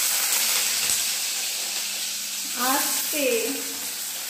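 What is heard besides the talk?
potatoes sizzling as they are added to hot oil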